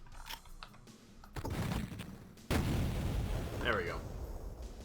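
Gun turrets in Duke Nukem 3D fire repeated rapid shots, a dense clattering barrage that swells midway and continues loudly to the end, with game effects layered over it.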